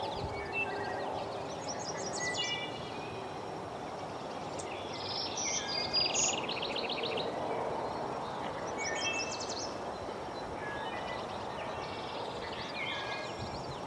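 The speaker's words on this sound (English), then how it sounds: "Their songs can be heard throughout the sanctuary, especially the zee-zee-zazoo-zee of the black-throated green warbler." Several warblers, among them a black-throated green warbler, sing in a woodland sanctuary with willows, their high buzzy phrases repeating over a steady bed of insect and ambient hum throughout.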